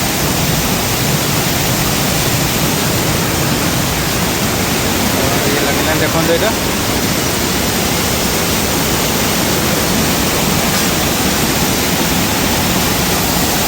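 Water gushes hard under strong pressure at a temple shrine, a loud, steady rushing roar close by, with a voice talking faintly beneath the spray.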